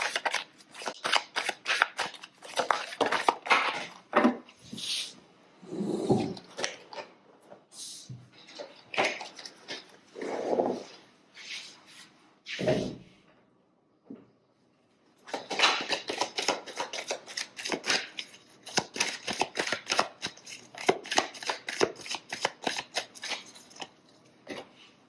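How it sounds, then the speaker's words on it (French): Oracle cards being shuffled by hand, a long run of close, crisp riffling and flicking bursts with brief pauses between handfuls, mostly alone with only faint other noise. "on va battre un petit peu les cartes"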